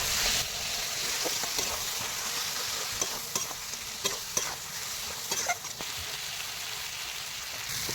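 Koel bird meat sautéing in a pan with Kashmiri chilli and turmeric, a continuous close sizzle broken by repeated scraping stirs of a spoon.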